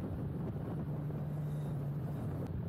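Strong wind roars over a Kawasaki motorcycle on a ride out of Barcelona in cold, snowy weather, a constant low rumble and buffeting with no speech.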